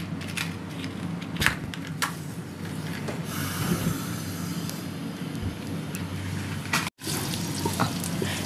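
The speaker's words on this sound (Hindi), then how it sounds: "ये घी डालकर प्याज ब्राउन करूँगी।" Steady crackling sizzle of onions frying in hot ghee, continuous and close, with a few sharp pops and a brief dropout near the end.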